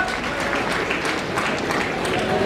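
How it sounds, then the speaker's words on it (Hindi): Applause from a crowd at a housing-key handover event in Moradabad, a brief dense burst of many hands clapping at steady loudness throughout. "तालियां जोरदार तालियां।"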